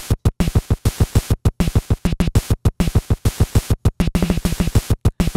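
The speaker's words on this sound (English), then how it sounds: "right left kick drum variations, which sounds kind of like this" NES-style chiptune kick drum pattern for Venture Kid, punchy square-wave thumps alternating in a quick, driving rhythm with slight variations between hits, loud and alone with no talk.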